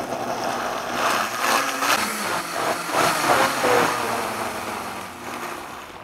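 High-power blender crushing about two cups of ice with smoothie ingredients, a loud, fluctuating motor whir with grinding surges, heard close and alone.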